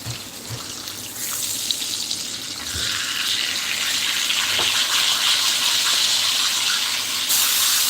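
A kitchen sink tap runs in a loud, steady gush that strengthens partway through and keeps a constant hiss, with faint clatter in the background and no talk.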